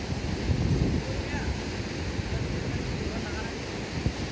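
A flooded river roaring past, heard as a continuous broad rushing wash with wind buffeting the microphone and a low rumble that swells near the start.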